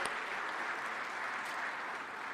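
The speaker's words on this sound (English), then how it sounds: "I believe you will also give our team, our panelists, distinguished, a round of applause" An audience at an African Union Peace and Security Council 20th anniversary event in a Dar es Salaam conference hall applauds its panelists, a steady, dense wash of clapping from a large crowd held evenly throughout.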